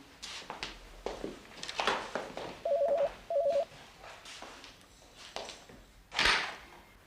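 Two short bursts of telephone dialing tones ring out in an old Arabic radio drama, set amid quiet rustles, footsteps and handling sounds.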